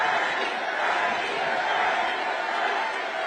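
A huge crowd of about 36,000 people at a Bernie Sanders and AOC rally in Los Angeles roars and cheers in a steady, dense wash of noise that never lets up.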